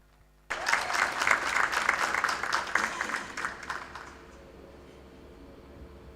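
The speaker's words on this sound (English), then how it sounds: "Please give her a applause as she comes onto the stage." An audience at a conference gathering claps together in a burst of applause that swells quickly, holds for a few seconds, then thins out and fades to quiet.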